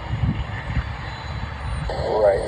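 FedEx MD-11 cargo jet at Tulsa taking off on runway 36 right, a steady broadband engine roar at moderate distance that swells slightly toward the end, with faint radio chatter underneath.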